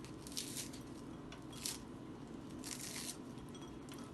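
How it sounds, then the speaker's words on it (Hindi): Crisp toasted bread slices torn by hand into small pieces for rice kheer, giving a few short, dry crackling tears in close succession over a quiet kitchen background. "ये हमने टोस्ट कर लिए और टोस्ट करके हम इनको छोटा छोटा पीस करेंगे, इस तरह से तोड़ लेंगे"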